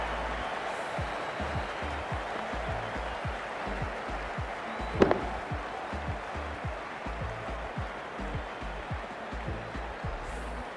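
Crowd at a T20 World Cup cricket match between West Indies and Zimbabwe applauding a departing batsman, a steady, broad wash of distant clapping and murmur, with one brief sharper knock partway through.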